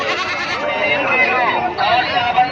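Goats bleat loudly and close by at the Gudur livestock market. Their wavering calls overlap continuously, with crowd voices mixed in.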